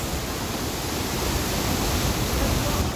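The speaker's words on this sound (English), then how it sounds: "there's a little brook there" A little brook and small waterfall at Dyserth Falls rush steadily, a loud, unbroken broadband roar of falling and flowing water close by with no other sounds.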